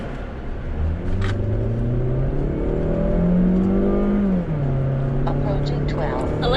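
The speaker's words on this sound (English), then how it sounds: "that we can hear still the engine noises as well. Then keep right. And that roar, that rev. Still very Mazda-like" A 2020 Mazda CX-30 engine revs and roars while driving, pitch climbing through the gears then dropping, heard from inside the cabin with someone talking over it.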